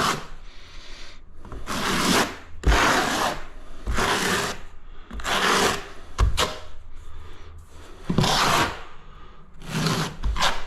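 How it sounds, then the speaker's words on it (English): A 6mm trowel spreads mastic tile adhesive across a wall for a splashback, making rhythmic, close-up scraping strokes about once a second with brief pauses in between. "This glue is a mastic glue, but it's not a one pot. I'm using a 6mm trowel."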